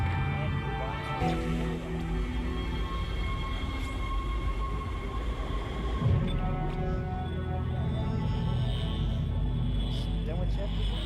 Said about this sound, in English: Okay, so we're gonna take the tram.